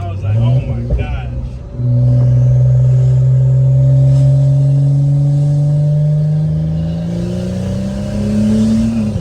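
A BMW N55 engine fitted with a crankcase breather revs up from idle with a rising, crisp growl that holds and climbs steadily, loud and close, after a brief clatter at the start.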